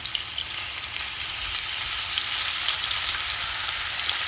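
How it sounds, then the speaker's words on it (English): Ground turkey fries in a pan on a stove set to medium, along with mushroom stems, producing a steady, close hissing sizzle with faint crackles and no voices. "So I'm going to go ahead and start adding my ground turkey"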